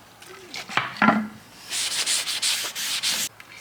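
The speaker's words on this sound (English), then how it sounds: "So just use some solvent to wipe the disc area clean." Cloth wiping solvent across a VW T-Cross brake disc, brisk rubbing strokes in short repeated passes, close and fairly loud, following a few light handling knocks.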